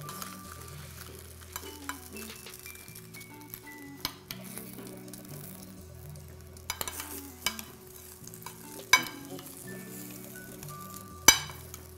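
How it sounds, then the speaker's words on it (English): Roasted potatoes and chicken drumsticks are stirred and turned in a baking pan, giving quiet scraping and shuffling with sharp metallic clinks and knocks scattered through, faint sizzling underneath. "move around the potatoes as well, so the ones that have been in the bottom can cook"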